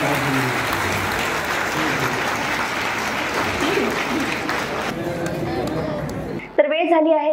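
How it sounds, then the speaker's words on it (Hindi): Steady, full applause from a large conference audience at Deekshabhoomi welcomes a foreign delegation during Dhammachakra Pravartan Day. Many hands clap evenly for several seconds, then the sound cuts abruptly to a single voice speaking. "तालियों से सभी जो फॉरेन डेलीगेशन का स्वागत कर रहे हैं"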